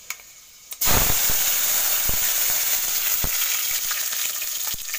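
Fenugreek seeds dropped into hot oil burst into a loud, sudden sizzle after a quiet moment, with a few sharp pops and crackles scattered through the steady frying hiss.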